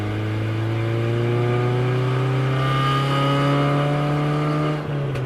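A Toyota Celica engine pulls steadily up through the revs on a winding mountain road, Highway 276 in Pisgah National Forest, a loud close drone rising slowly in pitch before easing off near the end.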